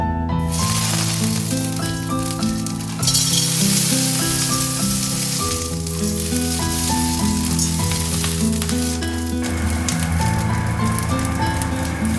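Stored peas frying in oil in a pan give a steady, fairly loud sizzle under prominent background music, with no talk.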